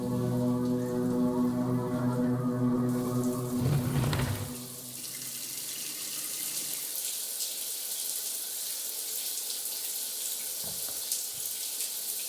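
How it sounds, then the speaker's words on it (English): A video game shower runs with a steady, bright hiss of falling water. It plays up close and alone, with a tonal hum underneath at first that cuts out, then the spray goes on and a couple of faint knocks follow. "I like to shower in the dark."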